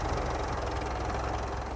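A Mitsubishi Pajero's engine idles steadily with a low, even rumble and faint rhythmic knock, close and continuous, with no voices.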